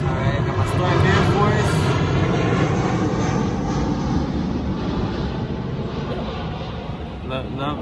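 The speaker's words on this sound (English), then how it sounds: "I want to count the airplanes that pass by" A fixed-wing airplane drones steadily overhead, a loud broadband engine roar filling the whole stretch and easing slightly toward the end, with voices faintly present beneath it.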